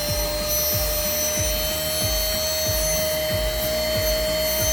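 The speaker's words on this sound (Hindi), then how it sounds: "ये वैक्यूम क्लीनिंग ऑन हो गई। ये नॉर्मल मोड पे चल रहा है" A Xech 4-in-1 handheld vacuum cleaner, a combined jump starter and tyre inflator, runs in normal mode with a steady close motor whine and rhythmic low thumping throughout, no talking.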